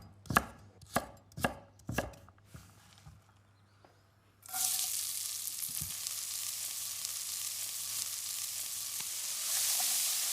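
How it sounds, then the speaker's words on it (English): Lamb shanks and vegetables sizzling in a frying pan, a few sharp knocks on a board before a loud, steady hiss of frying takes over and swells slightly near the end. "Really, really gorgeous, sizzling lamb shanks."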